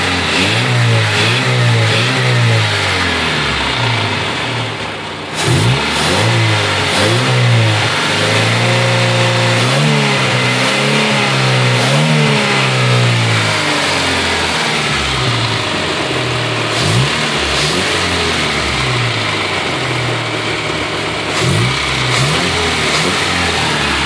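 A motor running on gas vapor fumes instead of fuel from the tank, in a homemade setup, revs loudly and steadily, its pitch rising and falling repeatedly through repeated throttle swells, close up and with no talk.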